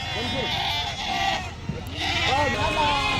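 Sheep being unloaded at a livestock market bleat repeatedly, several wavering cries overlapping close by, with a lull in the middle before more bleats follow.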